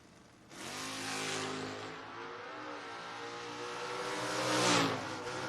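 Camaro launching down a drag strip at a footbrake drag race, its engine roaring in from near silence, then rising and falling through gear changes before swelling loudly as the car passes.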